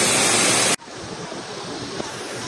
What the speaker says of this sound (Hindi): बालाकोट से तकरीबन 40 मिनट की ड्राइव के बाद केवाई आबशार आती है